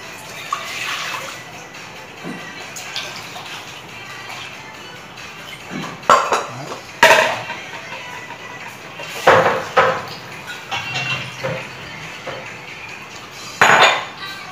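Cold water splashes and pours into kombucha in a big stainless steel basin, with bursts of sloshing and clanking metal knocks against a quieter background.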